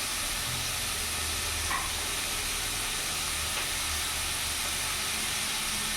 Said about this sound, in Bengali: ভালো করে নাড়াচাড়া করে আমি ভেজে নেব।